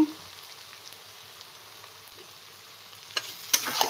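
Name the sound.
cabbage with green peas frying in a wok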